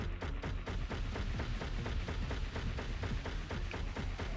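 Rapid, steady stream of weapon fire aimed at a boss in Crash Bandicoot: The Wrath of Cortex, dense repeating shots close and loud with no pause and no voices.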